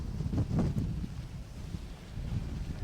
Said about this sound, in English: those strong gusts would be moving into our area right about now, and they definitely have